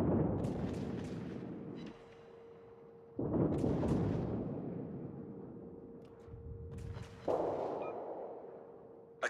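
Naval guns booming in World of Warships during a ranked Tier 8 destroyer match: heavy broadband blasts at about 0, 3.2 and 7.2 seconds, each decaying over a couple of seconds, with a steady tonal hum underneath.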